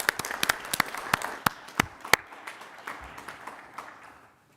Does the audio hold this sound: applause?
yes